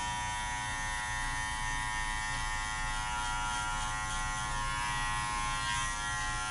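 Electric hair clippers buzz steadily and close while cutting a wave-length style with bald tapers, a constant even drone throughout with no voices.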